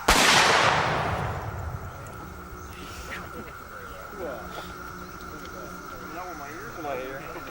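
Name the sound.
gunfire at a battlefield reenactment ceremony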